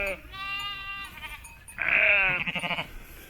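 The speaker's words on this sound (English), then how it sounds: "Herd of sheep." A herd of sheep bleating in the Croatian countryside, several wavering calls at moderate distance, one louder bleat rising midway, with faint outdoor background and no talking.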